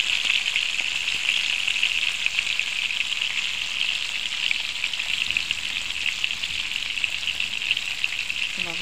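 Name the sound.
shrimp frying in a pan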